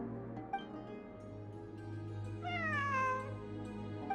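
In Genshin Impact's Fieldwise Center ruins, a cat meows over a steady humming ambient bed, one short faint mew early on, then a longer, louder drawn-out meow that rises and falls near the end.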